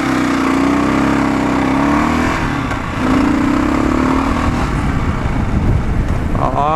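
Kawasaki KLR650 motorcycle heard while riding. The engine hums steadily, swells in a rev, then settles into a rougher, gusty roar mixed with wind noise, loud and close throughout.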